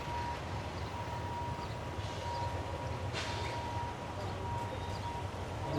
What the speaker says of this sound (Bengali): সামনে ট্রেন যাচ্ছে, বিধায় জ্যাম হচ্ছে একটু।